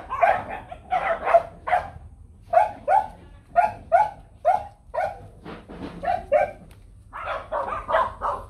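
Dogs bark and yip repeatedly while scrapping over a mouse they are hunting, rapid bursts of sharp barks close by, pausing briefly and then resuming, with a low hum underneath.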